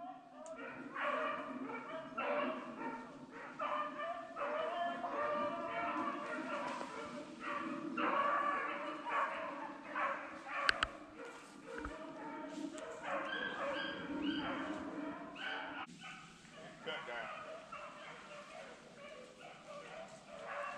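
Rabbit hunting dogs yipping, baying and whimpering almost continuously on a sight chase after a jumped rabbit outdoors, a pack of excited voices layered together at moderate distance.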